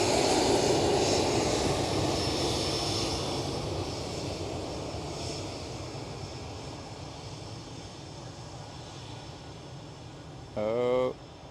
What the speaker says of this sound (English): Lufthansa A320.